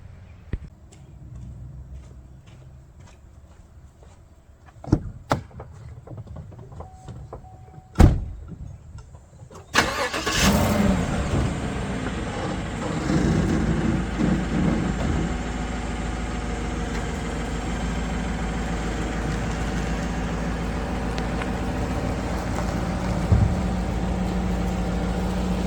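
A truck parked under cover at a riverside campsite in Maine, first a few scattered clicks and thumps, then the engine catches at once and settles into a loud, steady run as the vehicle pulls away.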